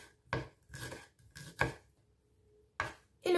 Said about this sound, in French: puis émincez le piment en petit